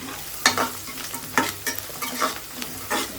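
Ingredients for lemon rice fry in a hot pan, a steady sizzle broken by repeated scraping stirs of a spoon against the pan, close up with no talking.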